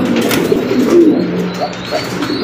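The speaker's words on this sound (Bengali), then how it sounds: "ভয় পাই দিচ্ছে কবুতরটা" A frightened caged pigeon under a bright light gives low, soft coos amid steady rustling and background noise, close by, with no talking.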